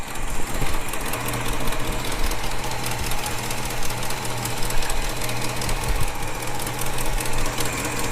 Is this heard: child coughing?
no